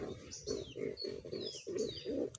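Pigeons coo softly and continuously at close range, a low throaty murmur with faint chirps mixed in.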